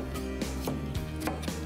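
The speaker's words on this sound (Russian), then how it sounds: "А теперь для нашего морского салата я нарезаю соломкой огурец" Knife slicing a cucumber into thin strips on a cutting board for a mussel seafood salad, a steady series of about six crisp chops close by, with no talking.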